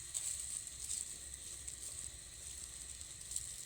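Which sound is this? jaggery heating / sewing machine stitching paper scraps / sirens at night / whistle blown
jaggery heating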